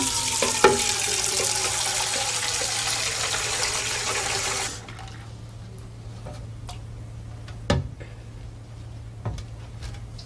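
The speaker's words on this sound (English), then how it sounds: "Fill it with water." Tap water pours steadily into a large drinking glass for about five seconds, then stops, leaving a quiet room with a faint hum and a few scattered clicks and knocks.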